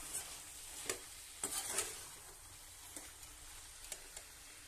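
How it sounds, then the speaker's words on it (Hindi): Potatoes stirred into a spiced oil masala in a pan, with a soft, steady sizzle and a few light scraping clicks of the spoon against the pan, quiet and close with no voices. "आलू इसमें डाल दिए और उसको करेंगे हम मिक्स।"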